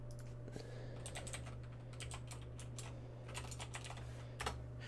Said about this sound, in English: type in your friend's name, their Bethesda account name